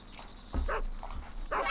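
A dog barks in Metal Gear Solid 3: Snake Eater, a few short sharp woofs spaced across the moment, moderately near with no talk over them.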